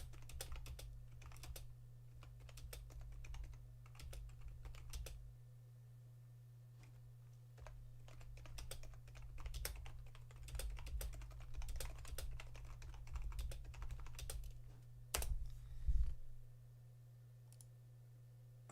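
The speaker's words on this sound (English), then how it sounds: "If you can only see when I'm typing" Someone types on a computer keyboard in quick, irregular bursts of soft clicks and key taps, faint over a steady low hum, with a louder knock near the end.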